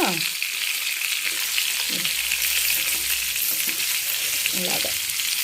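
Stuffed eggplants, masala gutti vankaya, fry in oil over a low flame, giving a steady broadband sizzle with occasional scraping stirs and a few brief low clinks, with no talk.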